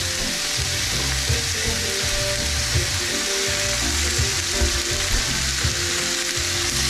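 Chopped leeks sautéing in oil in a pan, giving a loud, steady sizzle and crackle throughout with occasional scrapes and stirring bumps, up close and without speech.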